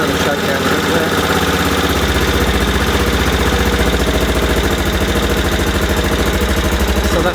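An Aprilia Pegaso Cube motorcycle engine, started from reserve fuel with the choke partly on, settles into a steady, close single-cylinder idle that thumps in an even rhythm throughout.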